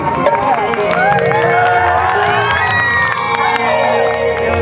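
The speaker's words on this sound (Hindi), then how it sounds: "एक बड़ी ताली बजाई इ कलाकार खातिर" Loud audience at a stage show cheers, shouts and applauds continuously, with high children's yells and crowd roar filling the whole stretch.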